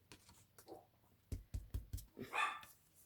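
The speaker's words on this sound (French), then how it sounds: "Il entend du bruit, alors monsieur, il aboie." Pilou, a small house dog, barks at a noise through an open front door: a quick run of four or five sharp barks at moderate distance, then a higher yelp, over quiet room background.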